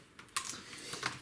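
Keys clack on the keyboard of an HP dv7 laptop, a handful of quiet, irregular taps spread over about a second, close and faint with no voices.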